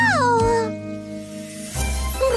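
A cartoon cat meows with a drawn-out, falling cry voiced by a performer, followed by a second rising meow over soft background music.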